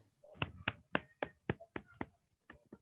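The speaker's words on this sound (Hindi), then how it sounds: "सिद्धार्थ सर, उनके लिए भी एक बार जबरदस्त ताली हो जाए।" Audience at a Vestige success seminar gives a burst of about ten sharp, separate claps, fairly close and spaced unevenly, fading out near the end with no talk over them.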